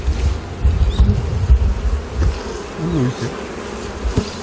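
Honeybees buzz densely around a beehive kept for honey, a continuous close droning hum that runs throughout while people talk nearby.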